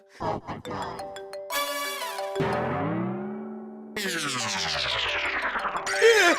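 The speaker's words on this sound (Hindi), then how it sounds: "फोन की रिंग तो अंदर से बज रही है" A mobile phone ringtone playing inside an office, with a melodic electronic tune, rising and falling tones and rapid pitch sweeps, moderately loud, with no talk over it.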